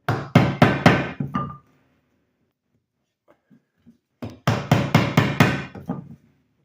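A chisel is hammered into wood while building a gate: two bursts of about six sharp, close, loud strikes each, separated by a few seconds of near silence with faint taps.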